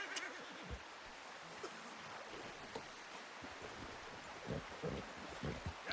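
A horse whinnies in Red Dead Redemption 2, fairly faint amid a steady rustling outdoor ambience with scattered soft hoof-like thumps.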